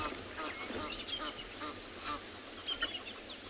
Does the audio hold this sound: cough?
no